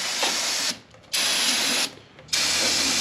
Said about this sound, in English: Spray a liberal amount on there.